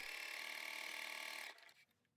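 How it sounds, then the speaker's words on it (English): A sewing machine runs a steady continuous stitch through fabric for a French seam, sewing 3/8 inch from the raw edge, then winds down and stops after about a second and a half. "Stitch 3/8 inch from the raw edge of your fabric."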